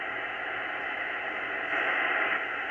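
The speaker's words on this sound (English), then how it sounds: "it's a continuous tone that follows the Doppler shift" Amateur radio satellite CO-55 received on UHF 436.838, a steady continuous tone drifting with Doppler shift, faint within a constant hiss of radio static.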